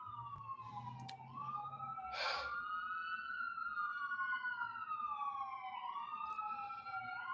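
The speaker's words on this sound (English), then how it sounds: "you're going to turn off the siren." A police car siren wails continuously, its pitch sweeping up and down at moderate distance over a low background rumble, with a brief burst of noise partway through.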